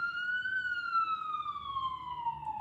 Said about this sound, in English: there's a ambulance going by